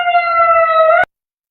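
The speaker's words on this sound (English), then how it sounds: "That siren is horrid." A loud, steady electronic siren tone blares close by for about a second, then cuts off abruptly into silence.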